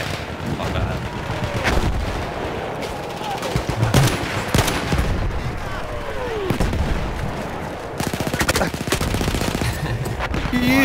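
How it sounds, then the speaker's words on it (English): Gunfire in the World War I shooter Battlefield 1: dense, continuous rifle and machine gun shots mixed with booming explosions and artillery, loud and chaotic throughout. "Chris, you're under fire, mate."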